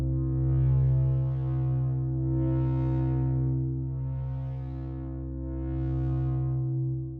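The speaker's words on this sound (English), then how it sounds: "I have a little bit of distortion on the sound as well, including a dual delay. Very loud, very droney, very bassy type sound." A droney, bassy wavetable synthesizer patch run through a filter, distortion and dual delay holds a loud sustained low tone, its upper harmonics swelling and fading in slow sweeps roughly every two seconds.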